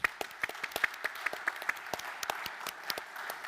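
Sparse applause from a small conference audience at a radio industry talk, distinct individual claps in an uneven rhythm, fairly faint and thinning out toward the end.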